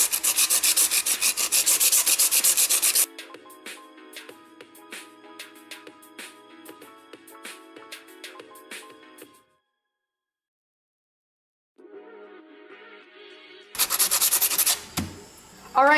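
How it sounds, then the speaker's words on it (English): Sanding of cured Apoxie Sculpt epoxy on a modded puzzle cube: an opening stretch of continuous dense rasping, then quicker scratchy strokes under background music, a silent gap, and a final burst of harsh sanding. "We finished sanding it, it's looking great."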